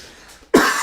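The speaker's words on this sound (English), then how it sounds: "Hold on, got a cough." A single sharp, loud cough bursts out after a brief quiet moment, close to the microphone.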